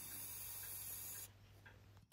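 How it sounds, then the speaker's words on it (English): Brake cleaner sprayed onto oily motorcycle clutch plates for a Honda six-cylinder RC374 replica: a loud, steady aerosol hiss that cuts off abruptly, leaving faint handling noises and a small knock. "The brake cleaner easily removes all the oil from the clutch plates."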